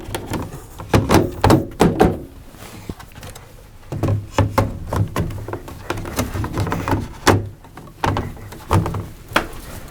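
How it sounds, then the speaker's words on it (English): A plantation shutter panel lifted into a top U channel and set down into the bottom channel gives a series of sharp wooden knocks and thunks in irregular clusters, close and fairly loud, with no talk. "we're going to lift it into the top U channel first, like a sliding window or a wardrobe door"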